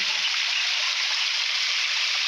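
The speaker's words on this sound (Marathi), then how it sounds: "आणि हे पाणी खाली ओढ्यामध्ये येतं." Steady broadband rush of water flowing down into a stream, loud and close, continuous with no breaks and no voices.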